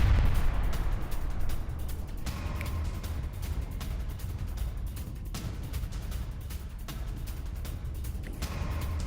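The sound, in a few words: explosions in news footage of missile attack on nuclear plant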